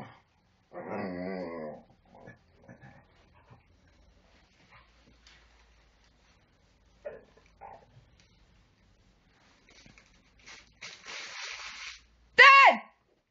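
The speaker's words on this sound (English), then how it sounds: "This is my dog Elsa" A pet dog growls and yips in short bursts inside a home, small isolated sounds separated by quiet stretches, with a person talking in between.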